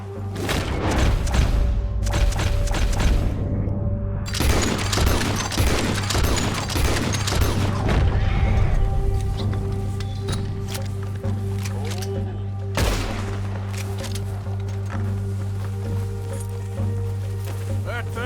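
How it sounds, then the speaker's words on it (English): Gunshots ring out during a deer hunt in Red Dead Redemption II: a cluster of sharp cracks in the first half, then one more report, over a steady low rumble with voices talking. "What are you shooting at?"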